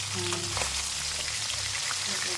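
Rohu fish pieces sizzling in hot oil in a pan, with a steady dense crackle and spatter throughout, close and loud; a voice murmurs faintly underneath.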